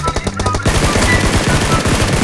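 Rapid automatic gunfire in the mobile battle royale game PUBG Mobile, a loud dense burst of shots that runs continuously for about two seconds, close and dominant.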